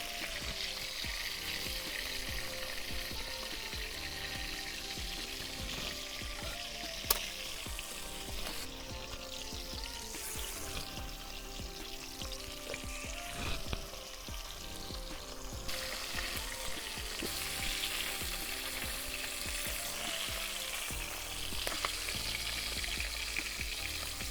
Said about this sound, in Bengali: আমি বেশি কড়া করে ভাজছি না, অল্প হালকা করে ভেজে নিচ্ছি।